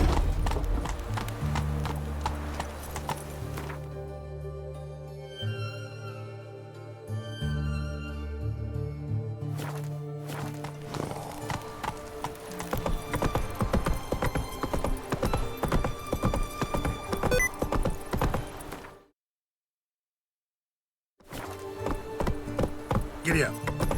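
Roach, a horse in The Witcher 3, gallops with a steady rapid clip-clop of hooves, loud and close, under game music and occasional voices, with a brief silent break near the end.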